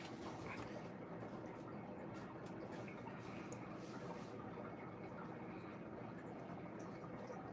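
A white noise machine plays a steady running-water sound, a constant dense wash that fills the whole clip at an even, moderate level with no breaks.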